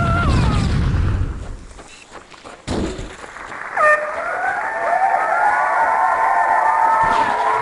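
Explosions in Halo: Combat Evolved hit as a heavy low boom at the start, then a sharp blast around the third second, followed by loud, sustained, warbling game sound effects.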